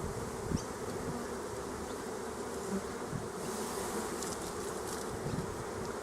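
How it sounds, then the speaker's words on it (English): Honey bees buzzing at an open hive during a brood check, a dense steady drone filling the space close by, with individual bees flying past now and then and no voices. "Quiet bees? Yeah, nice quiet bees."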